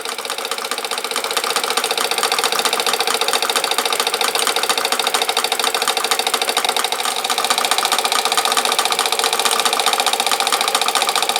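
A Mamod Mech steam engine running in a model workshop, a fast, steady mechanical chatter with a continuous hiss of steam, loud and close throughout.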